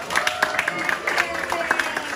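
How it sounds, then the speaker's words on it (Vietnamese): An audience at a Vietnamese-language school quiz event in San Diego claps for a student, with a brisk patter of nearby hand claps running throughout. "cho một tràng pháo tay cho Trần Nathan"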